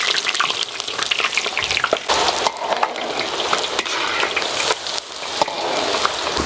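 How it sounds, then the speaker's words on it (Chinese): Onions frying in hot oil in a wok at the start of a spicy crayfish dish, a steady dense sizzle with crackling spatters and occasional stirring scrapes, loud and close with no talk. "油热了，把洋葱倒进来"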